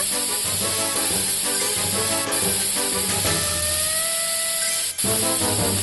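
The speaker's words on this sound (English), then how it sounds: "Use the spray to remove all the concrete." A continuous loud spray hiss removing concrete in a Robocar Poli rescue video game runs throughout, layered with bright electronic game music and occasional sweeping tones.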